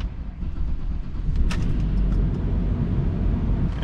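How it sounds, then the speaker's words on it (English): A Ford Explorer engine starts up close by, a low rumble swelling after a brief cranking burst and then settling into a steady idle. "And we're gonna start it up for the first time here."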